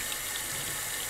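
Hot water runs steadily from a tap, filling a tub with a constant, full hiss of splashing flow throughout, close and fairly loud, with no talk over it.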